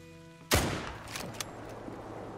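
A single loud rifle shot cracks out in an alligator-hunting video game, a sharp report followed by a long rolling echo that fades out over the next two seconds.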